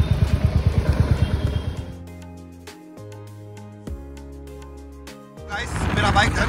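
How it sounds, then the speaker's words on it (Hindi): A motorcycle engine throbs in quick, close pulses during a ride, then fades under music and talking. "ये बाबा चला रहे अपनी बाइक"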